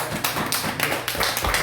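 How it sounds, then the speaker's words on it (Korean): A church congregation claps briefly, a short run of close, uneven hand claps and taps lasting under two seconds. "박수 한번 하십시오."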